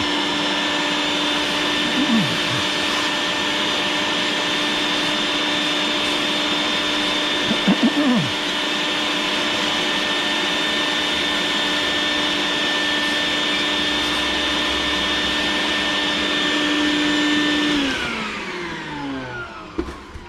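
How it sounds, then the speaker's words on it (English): A shop vacuum cleaner runs with a loud, steady whine while clearing debris from blending combustion chambers, holding one pitch for most of the clip before spinning down near the end, with a few brief clanks along the way. "Vacuum that off."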